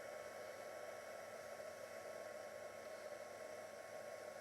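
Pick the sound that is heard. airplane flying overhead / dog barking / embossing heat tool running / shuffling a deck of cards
embossing heat tool running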